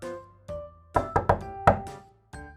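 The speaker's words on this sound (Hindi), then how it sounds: "फिर एक दिन चिड़िया अपने घर में बैठी थी कि दरवाजे पर दस्तक हुई" A door in a cartoon is knocked on: a few sharp hollow knocks, spaced then in a quick cluster, close and clear against near-silence, with a faint low tone underneath.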